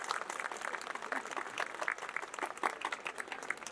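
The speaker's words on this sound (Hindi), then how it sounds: "एक बार जोरदार तालियां उनके लिए।" Applause from an audience at a school annual day celebration, a dense, fairly faint patter of many hands clapping steadily for a few seconds.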